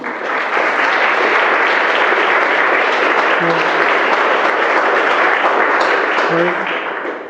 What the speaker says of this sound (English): Come on, give them both a big round of applause.